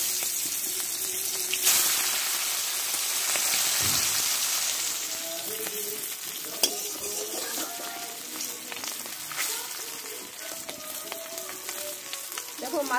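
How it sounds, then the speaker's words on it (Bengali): Hilsa fish heads frying in hot oil in a kadai after potatoes were fried, giving a steady close sizzle and crackle with occasional spatters and light utensil clatter throughout. "এবার এই তেলে আমি ইলিশ মাছের মাথাগুলো ভেজে নেব।"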